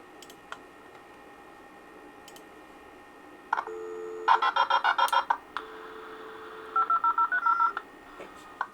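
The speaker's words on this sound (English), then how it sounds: "the modems are dialed simultaneously in XP" Several dial-up modems on multiple COM ports of a Windows XP machine dial at the same time, producing bursts of overlapping DTMF tone beeps in quick rhythmic runs, with a faint click and a low steady hum between them.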